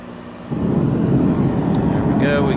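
A Val6 KBE5S infrared heater firing up, a sudden loud roaring whoosh that starts abruptly and then holds as a steady, close, broadband rumble.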